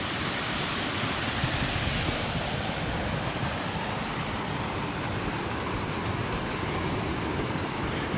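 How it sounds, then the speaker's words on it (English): Smith Falls, a small waterfall in Nebraska, rushes in a constant, dense hiss of falling water, heard alone and close. "Little waterfall there."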